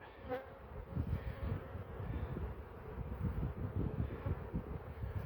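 Honeybees hum steadily around an open hive, a dense, continuous buzz close by with faint wind rustle underneath.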